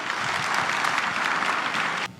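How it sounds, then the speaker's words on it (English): Sustained applause from a crowd at a charity gala in Chicago, dense steady clapping that cuts off abruptly near the end. "One more big round of applause for Gopi Kalayil."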